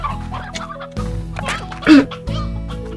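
Chickens in the video game Slime Rancher cluck and gobble in short bursts over a steady musical game background, one louder squawk rising near the end.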